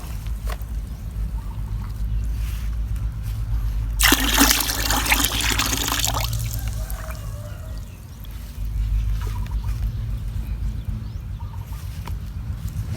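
Coconut water poured into a banana-shoot fermentation mix for a homemade plant tonic, a dense splashing pour lasting about two seconds over steady low background hum, with faint fowl clucking nearby.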